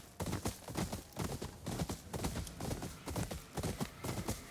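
Horse hooves gallop in the Ghost of Yōtei video game, a fast, steady run of loud, close clip-clop beats that carries through the whole stretch with no voices over it.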